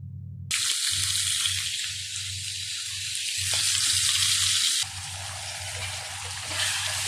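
Puti fish frying in a pan for a curry, a continuous bright sizzle that swells and shifts as pieces move, with a low steady hum beneath, close and even, with no talk.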